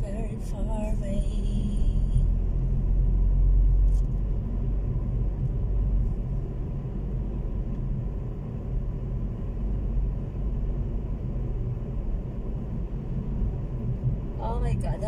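A car drives along a road in New Zealand, its low engine and tyre rumble steady throughout from inside the cabin, with a voice talking over it.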